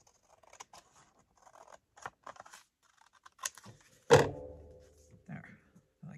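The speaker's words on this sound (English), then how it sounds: "I'm gonna cut this just a little bit shy." Scissors snip through paper while a handmade flip flop journal is trimmed, giving a few close, crisp cuts with one loud snap near the end amid quiet handling rustles.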